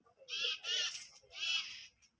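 Birds call in three bright, chattering bursts close by, each lasting about half a second, with short pauses between them.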